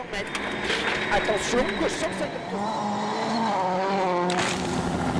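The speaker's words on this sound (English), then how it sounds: "Mikko flinging the DS3 from corner to corner" Hirvonen's Citroën DS3 rally car running on gravel stages in Mexico, engine note rising and falling over loud continuous road noise as it is flung from corner to corner, with commentary talking over it.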